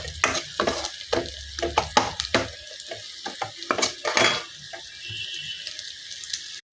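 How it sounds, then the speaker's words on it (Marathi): Mustard seeds, cumin, onion and chilli fry in oil over a low flame for Indori poha, with a soft sizzle under repeated close clatters of a spoon stirring in the pan. "थोडीशी मोहरी, जिरं, मोहरी, कांदा आणि मिरची छानपैकी आपण बारीक मंद आचेवरती तळून घेऊयात."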